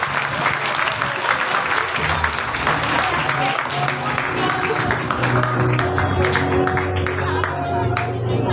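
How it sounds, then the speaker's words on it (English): A festival crowd applauds prize winners with steady, dense clapping throughout, with voices murmuring underneath. "Please give them a round of applause."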